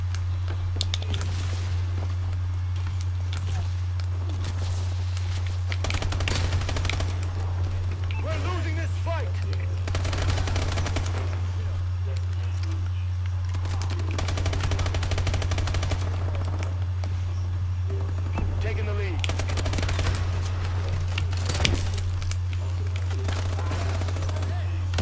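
Gunfire in Call of Duty: Advanced Warfare on a Bio Lab domination match, repeated machine-gun bursts and shots over a constant low hum, with a player's voice talking over the action.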